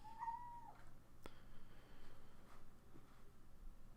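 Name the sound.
cat meowing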